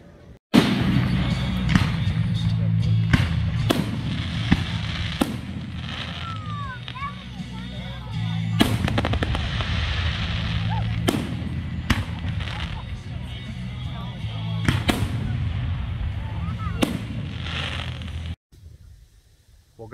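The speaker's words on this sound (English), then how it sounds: "let's watch the fireworks." Fireworks go off over a campground in a series of sharp booms spaced a few seconds apart, with crackling and people talking and cheering in between.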